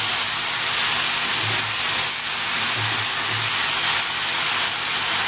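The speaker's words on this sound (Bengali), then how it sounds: "ভালো করে নেড়ে করে ভেজে নেব।" Greens frying with whole spices and salt in a pan, a steady loud hiss of sizzling oil running throughout with a few low knocks of stirring underneath.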